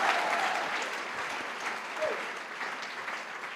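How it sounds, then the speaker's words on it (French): A church congregation applauds at a healing service, a steady, dense wash of clapping from many hands that holds at an even level throughout, with faint voices beneath. "dale fuerte el aplauso"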